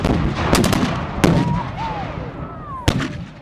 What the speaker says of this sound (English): The artillery still pounding each other.